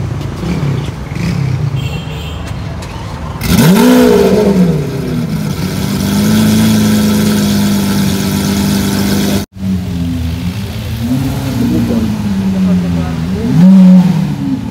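Lamborghini Aventador SV fitted with a Novitec exhaust, loud and close, idling and then revving hard in repeated surges that rise and fall, with a voice talking over the engine.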